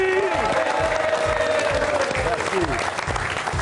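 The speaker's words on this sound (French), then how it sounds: "Mesdames, messieurs, un tonnerre d'applaudissements" Loud, sustained audience applause on an Algerian television show, a thick crowd of clapping with a voice briefly speaking over it.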